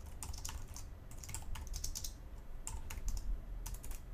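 Code is typed on a computer keyboard in quick, irregular bursts of soft, close clicks with short pauses between them and no voices.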